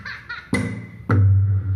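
Tabla voices from a digital drum rhythm pad: after a few soft taps come two firm struck hits, the second ringing out with a deep, booming low resonance, close and loud.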